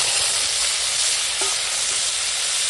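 Panch phoron, dried red chilli and bay leaf sizzling in hot oil in a pan, a steady close broadband hiss and crackle with no talk.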